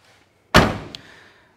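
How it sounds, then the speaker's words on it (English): A 1968 Chevrolet Chevelle SS car door is shut once, a single loud, close slam with a sharp onset and a brief fading ring, then a faint click afterward; no talking. "Shut this door."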